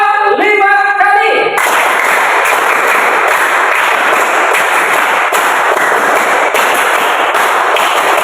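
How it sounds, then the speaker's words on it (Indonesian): Participants in a teacher-training class clap together in a loud, dense burst of group applause that begins after a short stretch of tonal sound and carries on steadily to the end. "Tepuk 5 kali."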